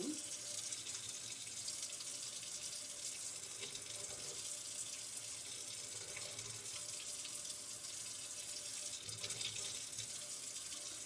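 A tap runs continuously into a sink in a home kitchen where vegan oatmeal raisin cookies are being made, a faint, steady hiss of flowing water with no voices over it.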